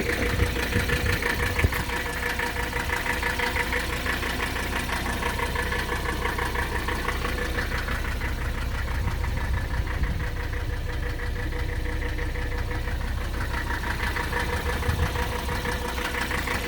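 A 1982 Mercedes 300SD diesel engine idles steadily with its characteristic knocking clatter, close by and continuous with no talk.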